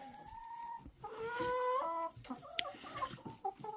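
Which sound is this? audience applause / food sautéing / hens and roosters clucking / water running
hens and roosters clucking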